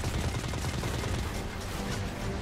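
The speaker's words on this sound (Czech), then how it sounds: "Co to kurva po mě střílí?" Enemy gunfire in the video game Destiny 2, a dense, continuous barrage of shots with sustained low rumble throughout, loud and busy with no clear gaps.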